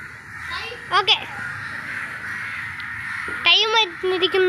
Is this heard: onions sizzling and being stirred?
no